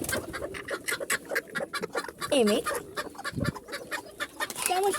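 Chickens cluck steadily up close, including a broody hen, with rapid repeated clucks and a couple of drawn-out calls among poultry and pigeons in a yard, while someone speaks briefly.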